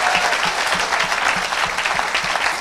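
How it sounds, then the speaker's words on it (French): A church congregation applauds and cheers, loud and continuous, with rhythmic clapping standing out against the crowd. "Donne une grande acclamation à Jésus de Nazareth."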